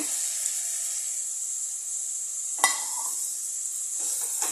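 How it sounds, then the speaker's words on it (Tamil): Chopped onions and tomatoes sizzle steadily in a hot pan for a Sunday chicken biryani, a continuous close frying hiss with one brief stir-like clatter midway and no voices. "நல்லா வெங்காயம் தக்காளி வதங்கட்டும்"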